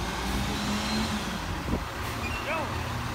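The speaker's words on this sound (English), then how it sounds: "City of Irving, Texas, garbage truck." A Sterling LT7500 garbage truck with a Heil PakMor rear end loader, City of Irving, Texas, rumbles nearby with steady engine noise, a brief hiss and squealing mechanical whines as people talk over it.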